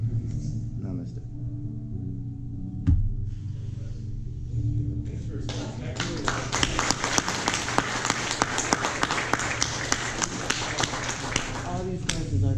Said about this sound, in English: All these guys, I've been clapping, and now you guys clap